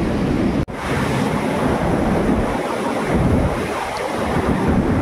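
Huge volume of river water rushing through a dam near Banbasa, a loud, continuous broadband roar heard close up without pause, with one brief dropout early on.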